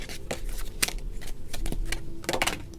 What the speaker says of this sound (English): I think I will shuffle them a bit further.